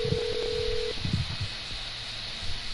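A phone rings in a video game: a steady electronic tone sounds for about a second, followed by low game sounds and background murmur.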